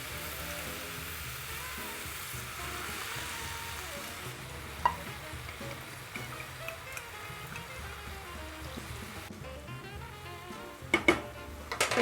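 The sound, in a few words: lamb and mushrooms cooking with salt and pepper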